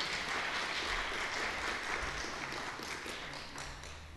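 Audience applause at a summer-course session on contemporary foreign policy, a steady wash of clapping from a seated crowd welcoming speakers, sustained and even throughout with one sharp tap at the end.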